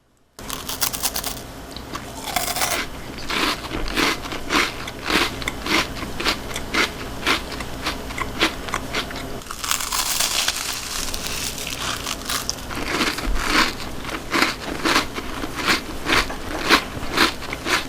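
Someone bites into and chews a crispy Tate's Bake Shop chocolate chip cookie, giving loud, close crunching and crackling bursts that repeat steadily for many seconds, with no talking.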